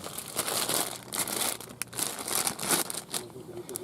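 A plastic bag holding US dollar cash crinkles and rustles close by in short, irregular handling bursts, with faint voices murmuring in the background.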